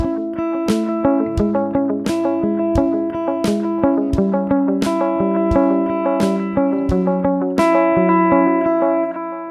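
Melodic electric guitar line played through an eighth-note delay pedal, each plucked note followed by rhythmic repeating echoes over a steady kick and snare beat, loud and continuous with no talking.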